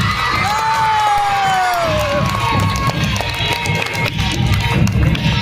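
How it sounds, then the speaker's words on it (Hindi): Children at a Balak Utsav school prize ceremony cheer and shout loudly as a crowd while trophies and certificates are handed out, a steady roar of excited young voices with a whistle-like whoop near the start. "एक बार जोरदार तालियां हो जाए."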